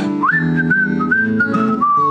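A person whistles a slow, wavering melody in a church online service, one clear sustained tone sliding between pitches, close and alone.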